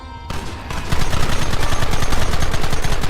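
Dense, rapid gunfire from a Red Dead Redemption shootout, with sharp shots in a steady fast rhythm, loud and continuous after a brief opening burst, and no talking.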